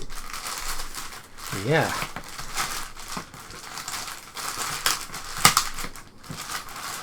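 Plastic shrink-wrap on sealed Action Max VHS game tapes crinkles and tears in bursts of handling noise, close and fairly loud. A person murmurs briefly as the packaging is pulled at.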